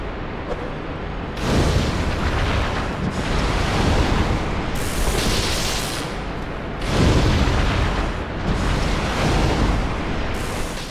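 Repeated booming fire explosions in the Dark Souls game, several loud rumbling blasts rolling one after another with mechanical clatter between them and no voices.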